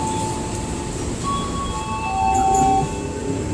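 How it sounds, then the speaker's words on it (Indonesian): A commuter train rumbles into a station with a low steady roar and thin high wheel squeals drifting over it, fairly close, no talking. "Oke, kereta selanjutnya udah masuk teman-teman."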